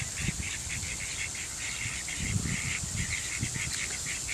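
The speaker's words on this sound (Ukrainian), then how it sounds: "Вон качки тут сидять в траві, кря-кря-кря." Ducks sitting in grass in an Italian town quack repeatedly at a moderate distance, a string of nasal calls over steady outdoor background noise with no talking.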